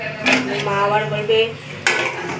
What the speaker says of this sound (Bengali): ও ঢাকা দিয়ে দিই